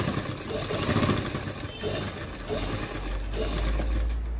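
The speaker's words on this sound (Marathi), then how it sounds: "तसं शिलाई मारून घ्यायची" Sewing machine stitching the back neck of a Paithani saree blouse with a border design, running as a steady continuous motor whir throughout, fairly close.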